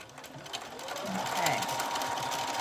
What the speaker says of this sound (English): notice that my machine's going to come forwards and backwards